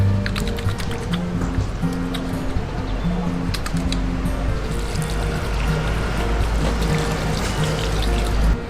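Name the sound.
washing hands with running water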